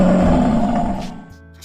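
A loud lion roar sound effect, a deep sustained roar that holds strongly for about a second before fading into a rumbling tail, with no speech over it.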